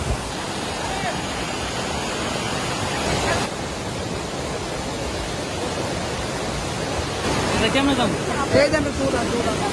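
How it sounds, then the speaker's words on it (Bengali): Water at Khoiyachora waterfall rushes in a dense, continuous roar, loud and steady throughout, with a slight lift near the end. "আপনারা শুধু ঝর্ণার আওয়াজটা লক্ষ্য করুন"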